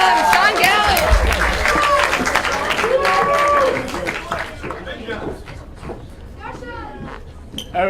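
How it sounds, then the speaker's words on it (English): Audience applause for a stand-up comedian at a live sketch show: loud clapping and cheering from the crowd with excited voices mixed in, tapering off over several seconds as whoops linger. "So let's give him a round of applause."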